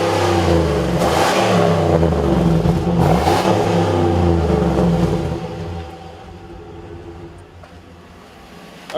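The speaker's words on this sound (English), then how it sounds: "there's nothing like the sound of a V8 Chevy" A Chevy Silverado 2500 pickup's V8 engine revs hard in a loud, rising roar near the microphone, then drops back to a lower, steadier idle rumble for the last few seconds.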